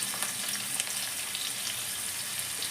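Chopped garlic and ginger fry lightly in a pan with a bay-leaf tempering for a vegetable stew, giving a steady, soft, even sizzle that runs alone without pause.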